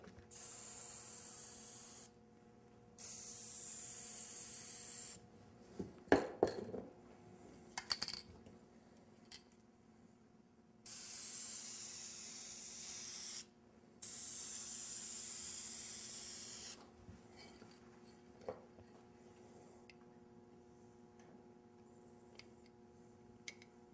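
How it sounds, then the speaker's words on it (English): Aerosol can spraying lacquer through an adjustable nozzle, heard as several steady hissing bursts of a few seconds each separated by pauses, with a few clicks and rattles between them, fairly faint. "I'm going to put a mask on because I'm spraying some lacquer here."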